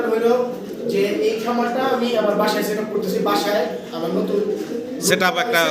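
Pigeons cooing at a pigeon seller's stall in Ashulia, Dhaka, soft repeated throaty coos close by, mixed with people talking over them.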